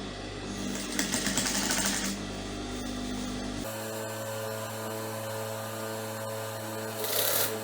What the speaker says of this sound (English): So I just stitched it along the line just as I made it on the fabric